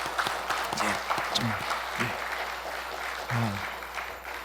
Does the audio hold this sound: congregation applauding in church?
yes